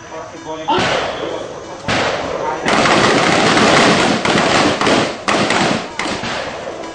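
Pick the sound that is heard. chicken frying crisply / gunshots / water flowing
gunshots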